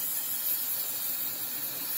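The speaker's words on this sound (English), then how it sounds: "I'll take some brake cleaner and just hose it out a little bit." A can of brake cleaner sprays a steady, loud, unbroken hiss as it hoses out a bucket during a brake fluid job, with no other sound.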